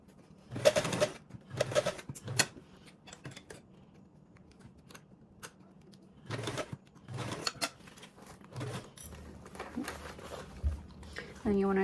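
Sewing machine stitching the front panel of a fabric bag, several short bursts of rapid mechanical whirring separated by pauses, close and moderately loud, with quiet handling sounds between runs.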